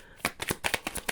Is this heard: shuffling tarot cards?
yes